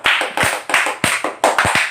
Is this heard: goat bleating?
no